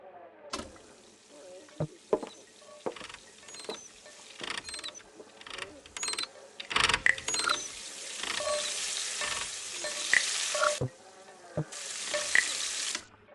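Frying food sizzles and crackles in a busy restaurant kitchen in the video game Frequency Missing, with stirring and clanking pots and utensils, steady and fairly close with bursts of hiss, alone without talk.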